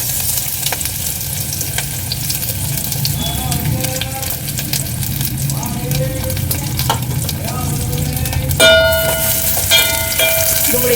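Chopped onion frying in a generous amount of hot oil as the base for a paneer curry, a steady close sizzle with occasional stirring clinks, continuing throughout.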